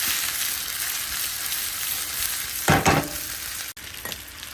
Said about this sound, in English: Fry both sides. Gently shake it.